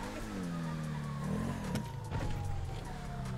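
BMW car engine in the GTA 5 video game, a loud close steady hum that rises and falls as it revs, heard alone without talk.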